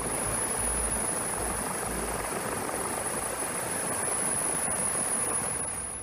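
A loud, steady helicopter roar, the rotor and engine noise continuous and unbroken throughout with no voices.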